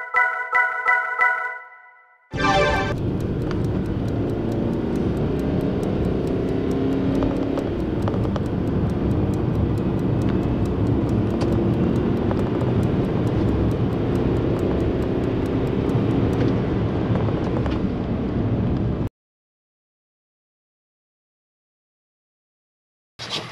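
Interior of a VW Transporter T6.1 van with the 150 hp TDI diesel and seven-speed DSG gearbox on the move: a steady, loud engine and road drone that fills the cabin for most of the stretch, then cuts off abruptly near the end.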